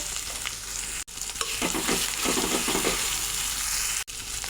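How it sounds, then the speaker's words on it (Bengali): Spice paste of turmeric, coriander powder and salt with a splash of water, for a fish curry, sizzles and fries in a pan while being stirred, with continuous crackling and brief scraping strokes and no talk. "মশলাটাকে ভালো করে কষিয়ে নেব।"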